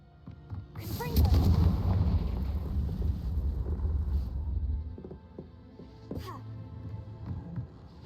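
A Confringo fire spell explodes in Hogwarts Legacy: a loud, booming burst that rolls into a long rumbling decay. A second, smaller crack follows a few seconds later.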